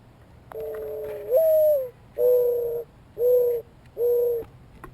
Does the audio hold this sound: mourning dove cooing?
yes